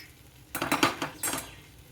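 A spoon scraping and clinking against a metal pan while okra bhaji with spices is mixed, a few short bursts of clattering with quiet gaps between.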